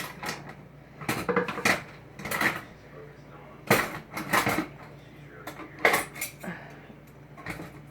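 Hands rummaging through a kitchen drawer of cutlery hunting for steak knives, bursts of metallic clinking and clattering separated by short pauses, close and moderately quiet.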